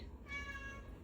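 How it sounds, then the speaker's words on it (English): A domestic cat lets out a single short, faint meow indoors in a home with tile floors, heard against a quiet room hum. "You hear the kitty."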